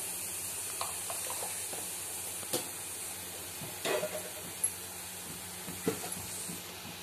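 Vilai fish podimas with homemade masala powder fries in oil, giving a steady, close sizzling hiss throughout. Occasional soft clicks and scrapes of stirring come through, with no talking.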